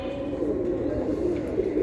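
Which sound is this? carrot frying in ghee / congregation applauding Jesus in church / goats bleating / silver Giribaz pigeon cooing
silver Giribaz pigeon cooing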